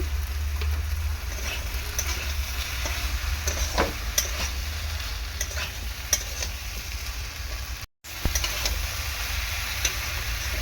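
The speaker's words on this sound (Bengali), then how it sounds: "মশলার সাথে ভেন্ডিটাকে ভালো করে বা ঢেঁড়সটাকে ভালো করে এরকম কষিয়ে নেব।" Okra frying with spices in a pan with prawns, a steady sizzle broken by regular ladle scrapes and taps against the pan, briefly cut off near the end before continuing.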